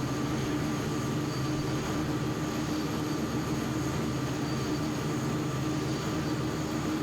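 A heavy airliner in Microsoft Flight Simulator rolls down the runway for takeoff. Its engines give a loud, continuous broadband roar that holds steady throughout, with no voices.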